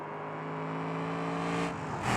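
A car engine in a racing video game drones and revs at high RPM, steady and loud with a slight rise near the end, alone with no talking.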